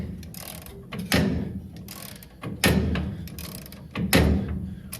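Hand ratchet cranking a stubborn bolt loose on a Squarebody drag truck, close mechanical clicking in three longer bursts with brief pauses between.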